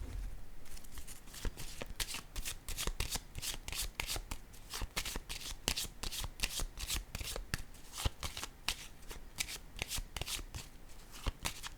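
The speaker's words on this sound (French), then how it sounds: "Je vais déposer une carte ici." Playing cards handled and laid on a table during a card reading, with a steady run of quick, crisp shuffling snaps and flicks close by for the whole stretch.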